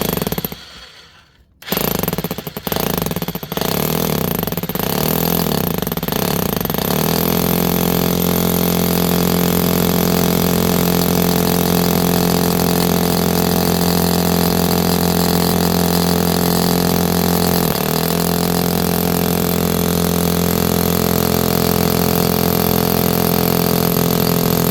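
Power drill boring a hole for an anchor bolt into concrete to fix a wood post, a steady loud continuous whir after a few brief starts, running alone without talk.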